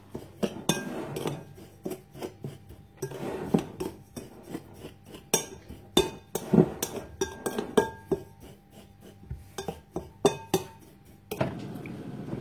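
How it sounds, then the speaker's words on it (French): Galette batter ingredients are mixed in a bowl, a busy run of metal utensil clinks and scrapes against the dish, irregular and fairly close, with short pauses between bursts. "Je mélange bien tous les ingrédients."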